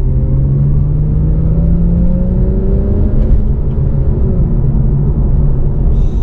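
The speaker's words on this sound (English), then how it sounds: "But this might help so you can pick up the exhaust note." Porsche 911 fitted with a Fister exhaust, heard from inside the cabin with windows and sunroof closed: a steady, moderate engine drone with rising harmonic tones as it accelerates, continuous and without talk.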